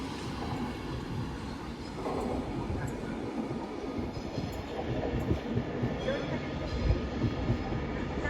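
A Class 390 electric train pulls out of London Euston bound for Glasgow, a steady rolling rumble with faint wheel noise holding even through the whole stretch, fairly close and continuous.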